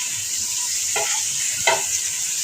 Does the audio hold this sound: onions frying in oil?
yes